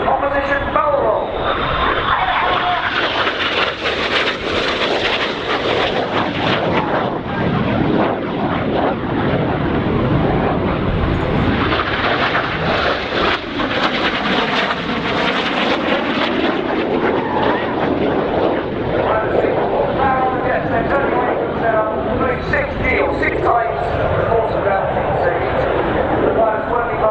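Red Arrows jets fly a low display manoeuvre over the airfield at RIAT 2016. A loud, continuous roar swells and fades as they pass, under constant talk from a commentator.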